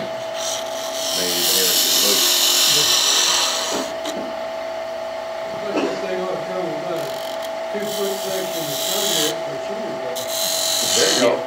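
Wood being turned on a lathe to cut a mortise and tenon, with a steady motor hum and bursts of rough scraping and cutting in between. Someone talks over it.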